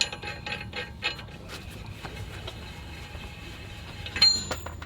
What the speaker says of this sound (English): if I turn this wheel bearing, you don't hear any grind. It just moves freely.